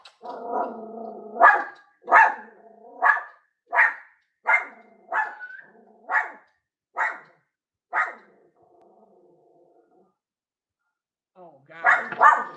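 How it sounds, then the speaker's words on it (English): A dog barks in a steady series of about eight sharp, evenly spaced barks, close and loud, after some growling, then pauses before a further burst of barking and growls. "Now all the dogs barking."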